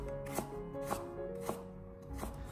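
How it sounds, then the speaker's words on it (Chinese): A knife chops through a small piece of fresh ginger on a cutting board, cutting it into slightly thick slices; four crisp, evenly spaced thuds fall about half a second apart, close and alone with no talk. "然后再将它改刀切成稍微厚一点点的薄片。"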